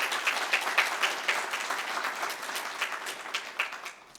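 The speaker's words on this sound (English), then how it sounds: "So round of applause for Dr. Shropshire" Conference audience at an aging-services event breaks into applause, many hands clapping in a lively, uneven patter that slowly tapers off over a few seconds.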